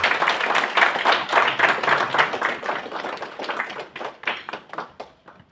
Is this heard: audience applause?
yes